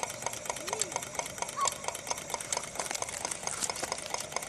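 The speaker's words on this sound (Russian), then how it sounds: "двигатель раскочегаривается" A homemade wood-fired hot air Stirling engine, model UDS-1, drives a generator, giving a steady, rapid mechanical clatter with evenly spaced beats that continue without a break.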